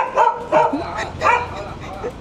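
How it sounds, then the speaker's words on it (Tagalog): Dog barking outdoors near the Dragon and Tiger Pagoda and Pier 2 in Taiwan, three or four loud close barks in quick succession. "Tumahol yung aso."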